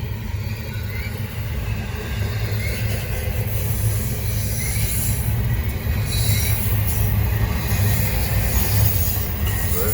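Norfolk Southern freight train NS 975, led by locomotive 911, rolls slowly past on the Charlotte District under a speed restriction, wheels squealing high and continuous over a steady low rumble of cars, loud and close throughout.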